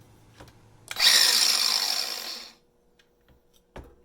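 A DeWalt DCG412B 20V cordless angle grinder fitted with a chainsaw chain disc revs up with a harsh, high-pitched cutting whine for about a second and a half, then cuts off, followed by a brief clunk.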